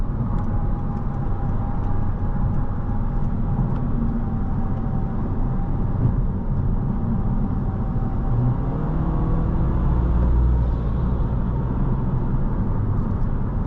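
Interior of a 2024 Honda Civic Sport with a CVT accelerating, a steady muffled engine drone and road noise inside the cabin, with a faint rising whine near the end and no talk.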